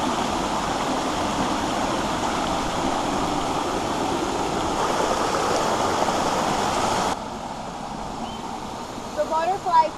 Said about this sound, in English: This is the edge of the big drop off for the waterfall.